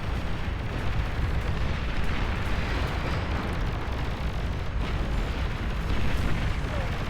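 Explosions from a bombing run in the Beyond All Reason strategy game form a continuous, loud, rumbling barrage of blasts and booms that pile into one roar, with a voice talking faintly underneath.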